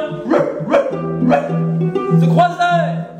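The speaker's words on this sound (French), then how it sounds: "Et un chien." A dog barks in a rapid series of yappy, tonal barks and whines, fairly close and loud, mixed with a voice over about three seconds.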